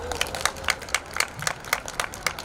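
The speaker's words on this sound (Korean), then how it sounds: "이건 용기 있는 말에 박수 한번 주시죠" Scattered clapping from a small audience at a campus busking mic event, a handful of distinct, uneven claps ringing out sharply over a few seconds with little else around them.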